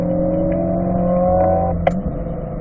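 Race car at Ron Fellows track, held in fourth gear through the top of turn 5 before downshifting to exit 5B; a loud, steady engine drone with a falling pitch and a brief sharp shift blip near the end.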